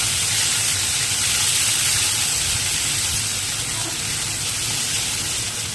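Nigella seeds and green chillies frying in a pan, with a steady, loud sizzling hiss that carries through the whole stretch and has no talk over it.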